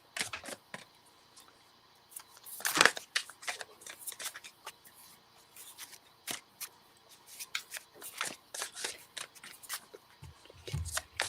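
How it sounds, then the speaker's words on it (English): Playing cards are shuffled quietly and repeatedly, with soft riffling bursts and occasional sharp snaps close by, with no voices. "Just the sound of shuffling."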